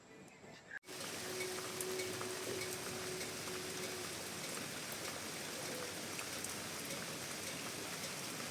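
Steady rain pours down after a brief pause at the start, a dense, even hiss of drops drumming on a surface nearby.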